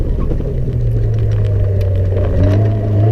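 A race car sweeps through a corner on the Rushmoor sprint track at an FDMC Dimanche Sprint, its engine holding a steady loud rumble with a rising rev toward the end, recorded close from inside the car.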